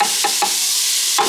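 Onions hit a hot pan for a chilli with beef and pancetta, giving a loud, continuous sizzle with a few quick scraping stirs close up and no voices.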